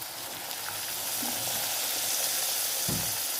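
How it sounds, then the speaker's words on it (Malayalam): Vinegar poured into a hot pickle mixture sets off a sizzling hiss with a few brief stirring bumps, fairly close and steady. "ഇച്ചിരി വിനാഗിരി ഒഴിച്ചു കൊടുക്കുക"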